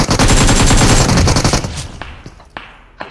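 Rapid automatic gunfire in a mobile battle-royale shooter finishes off a knocked enemy, a loud sustained burst that trails off into a few scattered single shots.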